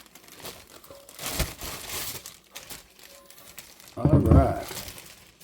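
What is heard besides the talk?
plastic wrapping pulled off a cast iron skillet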